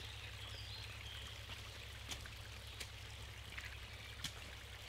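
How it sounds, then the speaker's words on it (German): Spring water trickling steadily out of a hole inside a cave, a soft continuous babble with a low hum underneath and occasional faint drips. "Hier aus diesem Loch, da kommt"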